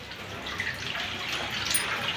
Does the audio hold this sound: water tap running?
yes